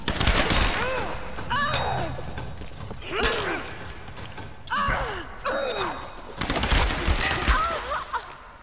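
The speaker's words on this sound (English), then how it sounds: "You're shooting me" Video game gunfire in Tomb Raider, with repeated bursts of rapid shots and clattering mechanical impacts through a dense, busy mix, loud and near with brief gaps between volleys.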